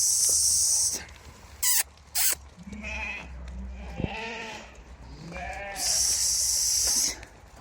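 Young Tatali breed breeding lambs in a flock bleat repeatedly, several sharp calls near and a few farther off, separated by quiet gaps with faint background noise.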